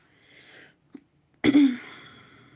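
A single sharp sneeze bursts out close by after a quiet moment, preceded by a faint breath and a small click.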